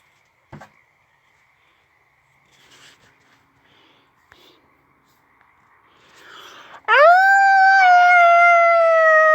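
Coyotes howl at night under a full moon: faint whispery sounds and soft rustles give way to one loud, close, rising howl that holds steady to the end.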